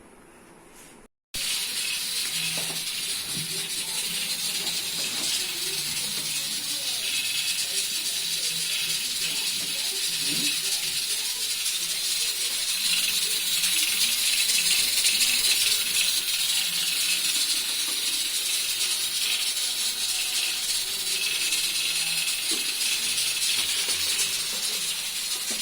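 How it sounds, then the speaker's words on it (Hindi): Frozen mutton sits in a pot on steam to thaw, giving a continuous hissing, bubbling steam sound with faint rattles, steady and close after a brief quiet start. "मैं इसे डीप फ्रॉस्ट करूंगा थोड़ा सा भाप में रख के ताकि मैं इसे भून सकूं"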